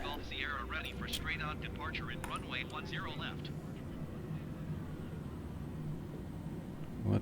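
A steady airplane engine drone from the video game Flight Simulator 2020 runs throughout at moderate level, with a person talking over it for the first few seconds.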